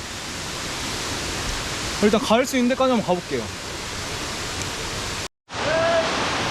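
A waterfall along a forest trail in Chiang Mai gives a steady, broad rushing hiss close by, with someone talking briefly over it partway through before the roar resumes after a short cut.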